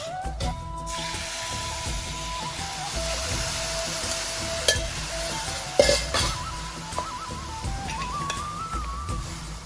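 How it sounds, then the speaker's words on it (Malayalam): Jaggery syrup is poured into cherupayar payasam (parippu pradhaman) in a pan and stirred, giving a soft bubbling sizzle with steady rhythmic scraping strokes of the spoon over a faint background hum. "നമുക്കിനിയും ഇതിനകത്തേക്ക് നമ്മൾ എടുത്തു വെച്ചിരിക്കുന്ന ശർക്കര പാനി ഒഴിച്ചു കൊടുക്കാമേ."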